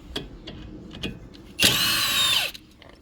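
A power tool whirs briefly on a Torx screw holding the rear brake rotor of a 2015 Chevrolet Malibu, a loud high-pitched burst of about a second that winds down, amid soft clicks and handling noises.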